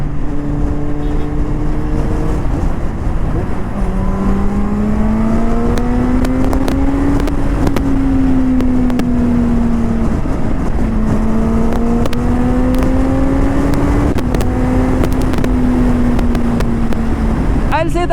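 A Kawasaki Z800 inline-four street naked motorcycle with a LeoVince exhaust runs continuously, its engine note rising and falling through repeated revs and gear changes, loud and steady throughout with constant wind rush.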